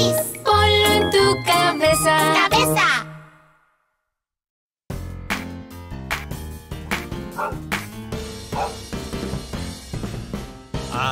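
A dog barks in a Spanish-language children's song, with short bright yips over jingling bell-like music, a silent pause, and then the tune starting again.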